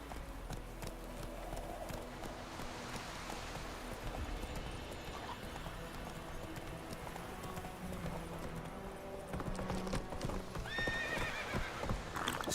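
A video game horse clip-clops steadily at a gallop, hoofbeats close and continuous over ambient game sound, with a neigh or whinny near the end.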